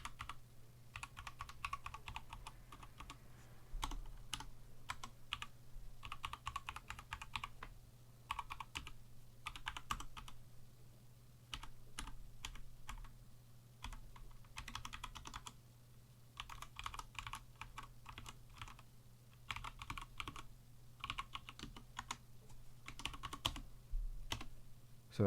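Keys on a Vortex Cypher mechanical keyboard are pressed one after another during a key test, quiet clacks in irregular bursts with brief pauses, close and alone over a low steady hum.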